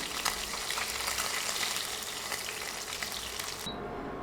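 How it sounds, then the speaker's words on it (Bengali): Pabda fish frying in oil in a pan, a steady dense sizzle with crackling pops throughout that cuts off abruptly near the end, no voices. "মাছ উল্টানোর পরে এই পাশেও এক মিনিট ভেজে মাছগুলো উঠিয়ে নিব"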